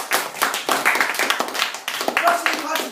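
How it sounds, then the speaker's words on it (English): An audience claps for a performer introduced at a speech on animal captivity, a dense, loud round of hand claps filling the moment, with some voices mixed in. "Round of applause,"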